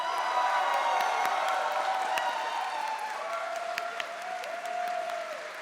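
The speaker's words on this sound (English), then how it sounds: "Give him a hand of applause." Sustained crowd applause at a youth gaming tournament award ceremony, dense steady clapping with a few scattered sharp claps standing out, fading slightly toward the end.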